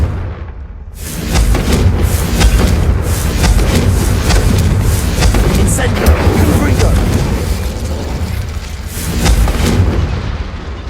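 Confringo blasting curse explosions in the Hogwarts Legacy video game, a loud sustained rumble of booms after a brief quiet start, with a voice heard over the blasts.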